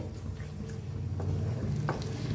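A spoon stirs a beaten egg mixture in a frying pan, with light scraping taps over a low sizzle, close and moderately loud, no talking.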